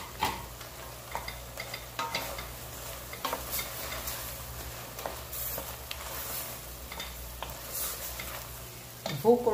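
A medium-sized chopped carrot frying in a pan for galinhada, a steady sizzle broken by repeated stirring scrapes, with a louder clatter of the utensil near the end.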